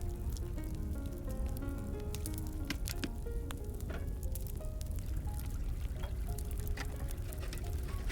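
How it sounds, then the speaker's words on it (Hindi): Soaked rice tipped into fragrant cooking water on the stove, a constant bubbling, hissing wash with scattered splashes and clinks, close and fairly loud with no talk. "दूसरी तरफ खुशबूदार पानी में भीगे हुए चावल शामिल करें"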